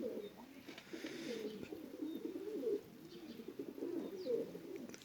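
Pigeons coo softly in a new coop, low rolling calls repeating close by over a quiet background, with a faint chirp or two mixed in.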